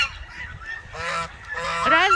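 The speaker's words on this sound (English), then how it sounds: "Goose." Geese on a chicken farm honk loudly and close by, giving a few brassy calls that rise in pitch toward the end, with no talk over them.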